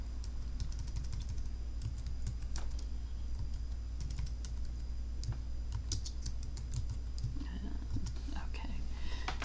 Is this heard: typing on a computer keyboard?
yes